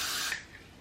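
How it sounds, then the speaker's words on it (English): Gots to Be hair spray misted onto a comb: one short, close burst of hiss that cuts off after about a third of a second, then faint room quiet. "I'm gonna apply some Gots to Be spray on a comb"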